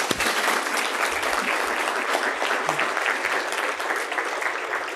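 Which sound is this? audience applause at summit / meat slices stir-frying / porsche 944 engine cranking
audience applause at summit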